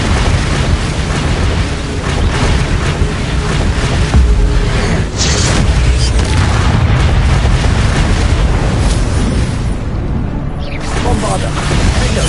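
Bombarda spell blasts in Hogwarts Legacy combat, loud booming explosions layered over continuous battle noise and magical effects, with a voice talking throughout.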